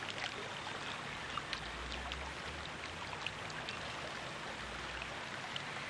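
Steady flowing water of the River Cong Brook running beneath an old red brick bridge, a continuous soft wash with light trickling detail, constant level throughout.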